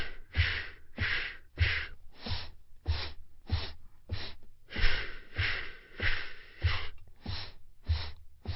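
A rapid, steady series of about a dozen sharp, breathy nasal puffs from one person doing a breathing exercise, close to the microphone with brief quiet gaps between them.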